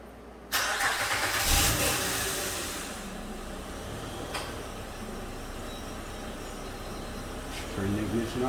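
A 2008 Honda Ridgeline with a 3.5-liter engine cranks and fires up in a garage after timing belt and water pump work, a sudden loud start settling into a steady idle hum with a brief rise near the end.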